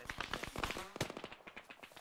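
Rapid bursts of machine gun fire in a military shooter video game, a fast crackling string of close, sharp shots over about two seconds with faint voices mixed in.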